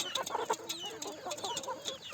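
Desi free-range chickens cluck on a village poultry farm, with soft, overlapping clucks and calls spread steadily across the moment at a modest distance.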